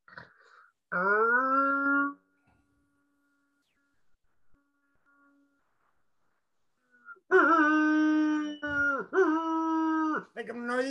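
A man imitates a wolf howl with his voice, as if calling wolves. There is one short sustained howl, a quiet pause, then a longer run of wavering howl-like calls, heard close and alone.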